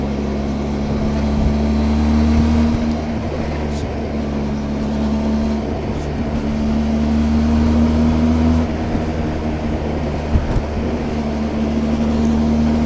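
A Benelli TRK 502X motorcycle cruises along a coastal road with a steady, droning engine hum and low rumble, holding an even pitch throughout amid constant wind noise.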